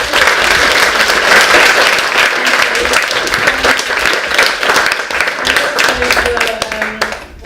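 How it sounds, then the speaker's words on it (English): An audience at a panel discussion applauds guest speakers with steady, loud, dense clapping that fades toward the end, while voices are heard over it. "I would like everyone to give a round of applause to all of our guest speakers."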